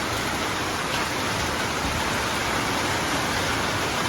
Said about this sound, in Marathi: खूप जोरात पाऊस आहे.